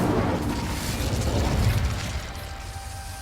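Incendio fire spell cast in the video game Hogwarts Legacy, a sustained roaring, crackling burst of flame with a low rumble that fades slightly toward the end, heard alone without talk.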